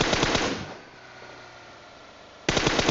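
Automatic gunfire in the mobile battle royale game PUBG Mobile comes as rapid loud bursts, one burst at the start, a short lull, then another sudden burst near the end.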